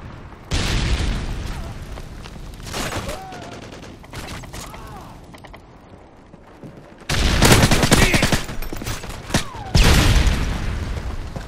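Predator missile blasts in Modern Warfare 3 multiplayer: two loud, heavy booms near the end following a stretch of rattling gunfire and battlefield noise.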